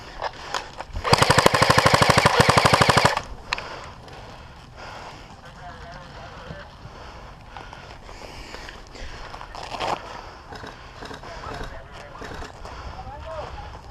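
An airsoft gun fires a loud, rapid burst lasting about two seconds during an outdoor capture-the-flag and team deathmatch game, followed by quieter outdoor ambience, rustling and footsteps.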